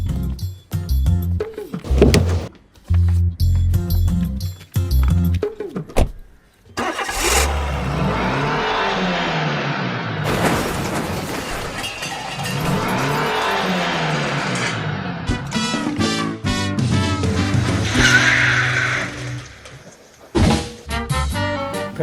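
Car engine cranking, revving and accelerating away in a chaotic comedy scene, with loud sweeping rises and falls in engine pitch, clunks and bursts of music-like clatter around it.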